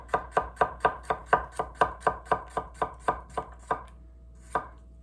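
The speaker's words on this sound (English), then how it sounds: "And you see how easy that was to go through that carrot." A Takamura R2/SG2 santoku knife, 170 mm, chops through a carrot on a board in a quick, even rhythm of about fifteen crisp close strokes, then pauses before one last cut, with no talking.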